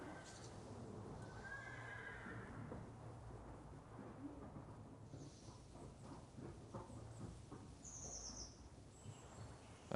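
Inside a video game horse stable, a horse whinnies loudly while hooves clip-clop at a moderate distance, and faint bird chirps sound in the background. No one talks.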